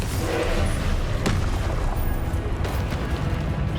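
Confringo fire-spell explosions from the video game Hogwarts Legacy: a dense, loud, continuous wall of booming blasts and crackle, with a sharper burst near the middle.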